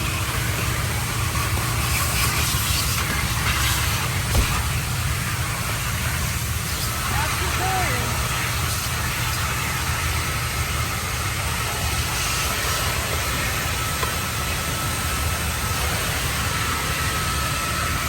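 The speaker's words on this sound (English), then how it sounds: "Vacuuming the car." A car-wash vacuum cleaner works over a car, making a loud, unbroken whooshing roar that runs steadily throughout with small shifts in tone as the nozzle moves.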